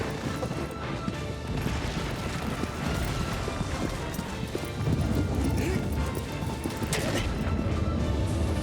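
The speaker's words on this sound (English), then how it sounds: "for those of you who care about horse things, he will actually walk, trot, and canter, and gallop properly" Horse hooves in the video game Shadow of the Colossus, a dense rhythmic clip-clop of hoofbeats on the ground moving from a walk into faster gaits, close and steady, with a voice talking over it.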